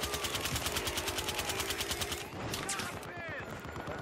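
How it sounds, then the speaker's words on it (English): Automatic gunfire in Battlefield Hardline hammers in a fast, even stream of shots aimed at the player, cutting off partway, after which softer clatter and a voice follow. "Where am I getting shot from?"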